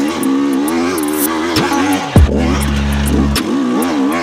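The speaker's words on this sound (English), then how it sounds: "See how she does a second hill pull or second gear pull." A new motorcycle revs and accelerates hard in second gear, loud and close, the engine note rising in pitch before a sharp shift to a deeper, steady drone.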